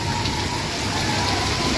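Dense, heavy monsoon rain pours down in a continuous loud hiss, steady and close, with no voices, during flooding in Surat.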